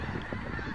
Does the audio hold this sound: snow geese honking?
yes